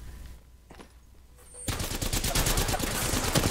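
Video game gunfire, quiet at first, then a sudden burst of rapid automatic shots that keeps rattling close and loud to the end.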